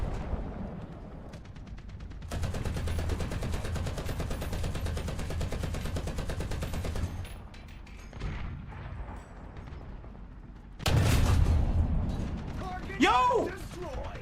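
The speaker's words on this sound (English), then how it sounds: "They're just blind firing at me." Enemy machine-gun and cannon fire from a War Thunder battle, with sustained rattling bursts, a pause, then a louder burst nearby, over continuous engine and mechanical noise.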